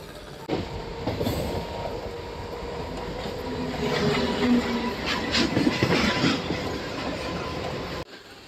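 A MEMU express train on the Bhimavaram–Vijayawada line near Kaikaluru keeps up a steady, loud rumble and rattle of wheels on track, with brief metallic squeals and clanks rising midway before the noise cuts off.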